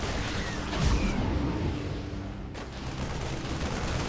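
Marines gun down Banelings in StarCraft 2, a dense continuous rattle of rifle fire mixed with game battle noise and a low boom, steady and loud throughout.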